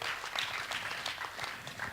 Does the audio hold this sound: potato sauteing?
no